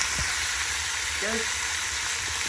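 Green beans and potatoes frying in a pan over medium gas, a steady broadband sizzle throughout with a brief scrape of stirring midway; no one speaks.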